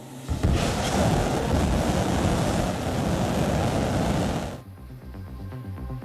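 SpaceX Starship rocket engines start up in a loud, broad roar that holds for about four seconds and then cuts off sharply, leaving quieter low rumbling and hiss.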